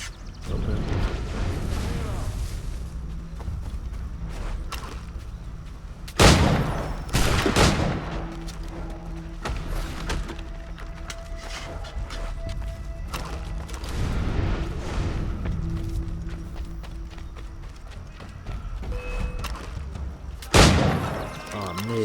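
Musket volleys in Assassin's Creed 3 Remastered, a loud crackling fusillade of overlapping gunshots with a few heavy booming blasts standing out, set against game music and battle noise, with voices shouting now and then.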